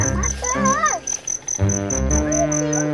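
Crickets in a home garden keep up a loud, steady pulsing chirp right through the clip, while a child and an adult talk over it.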